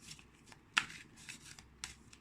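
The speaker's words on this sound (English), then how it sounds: "I'm just going to shuffle the cards." Cards are shuffled softly close up, a few quick riffling bursts with one sharper snap, quiet and without talk.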